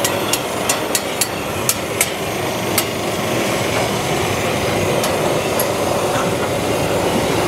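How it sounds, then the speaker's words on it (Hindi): Automatic chickpea roasting machine running, a steady mechanical whir and rumble with a series of sharp metallic clicks or knocks in the first few seconds, then continuous machine noise alone. "अब ये चना ऑटोमेटिक भून के निकलेगा बाहर।"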